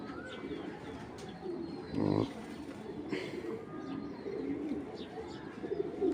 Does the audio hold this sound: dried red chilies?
no